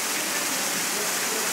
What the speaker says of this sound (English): We're under the waterfall.